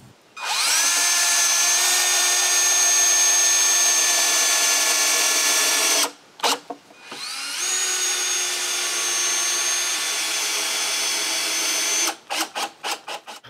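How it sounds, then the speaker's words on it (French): Power drill driving screws into wooden lounge chair parts, two long sustained whirring runs of several seconds each, each ending with short bursts of trigger pulses, loud and close with no talk. "je colle et je visse mes 2 bouts de bois au dossier"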